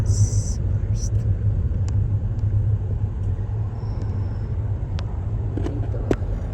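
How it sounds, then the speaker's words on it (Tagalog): Road traffic near Barstow, California, on the highway toward Las Vegas, with cars driving past as a steady low rumble throughout, a few faint higher tones and clicks on top. "Traffic na kasi mag-aalas 2 na."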